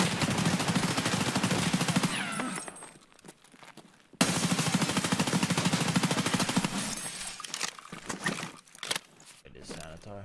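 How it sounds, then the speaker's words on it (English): Gunfire in the video game Escape From Tarkov sounds as dense, sustained bursts of shooting that drop away briefly around the middle and then resume loud and continuous before thinning toward the end. "What was all that shooting?"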